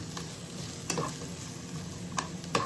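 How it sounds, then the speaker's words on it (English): Vegetables cook in a pan with a steady low sizzle, broken by a few short utensil clicks and scrapes near the start and the end. "So the veg is cooking away."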